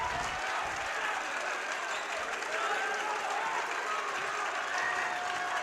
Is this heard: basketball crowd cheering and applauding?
yes